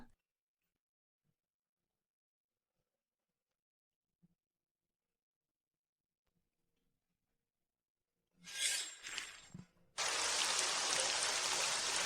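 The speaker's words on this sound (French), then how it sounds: "Il pleut tellement." Heavy rain bursts in after long near-silence, becoming a dense, loud, steady hiss that fills the last two seconds.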